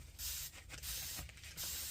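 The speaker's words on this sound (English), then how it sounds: "So now we're going to spray it again." Repeated hissing bursts of a spray bottle misting paint onto an IOD transfer, three or four long sprays with short pauses between, close and steady.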